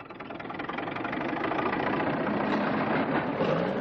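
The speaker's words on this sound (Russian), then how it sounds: "и мощный трудяга-трактор поворачивается в любом направлении" An industrial crawler tractor from the Cheboksary tractor plant, from 1978, runs its diesel engine with a heavy, knocking rumble that swells slightly and then holds steady and loud, with no talking.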